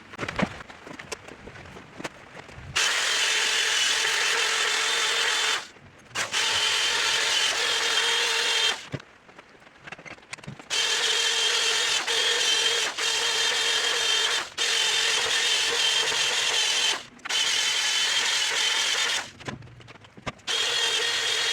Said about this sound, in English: I'm just going to wire brush that off with my drill real fast